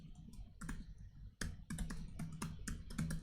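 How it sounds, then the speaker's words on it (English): Close, quiet clatter of someone typing a web address on a computer keyboard, an irregular run of crisp key taps and clicks with short pauses between bursts. "We'll just type that in."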